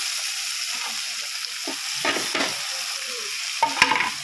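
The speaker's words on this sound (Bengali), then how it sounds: "দেখুন এবারে একটু নেড়ে নিই।" Bengali fish kalia with ginger, garlic, chili powder, turmeric and coriander leaves being stirred in a pan over a constant oily sizzle, with a few scraping strokes and a sharper clatter near the end.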